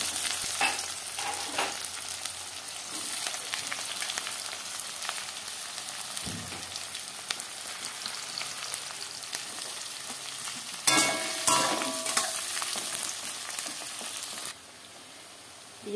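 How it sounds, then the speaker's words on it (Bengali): Onions fry in a pan with a continuous crackling sizzle, broken by occasional scraping stirs and louder spatters near the end before the sound drops away. "এই দেখো পেঁয়াজটা একেবারে ভাজা হয়ে গিয়েছে"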